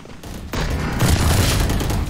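Gunfire in the Valorant video game: a loud burst of rapid shots that builds into heavier sustained fire over about two seconds, close and dominant with no talk over it.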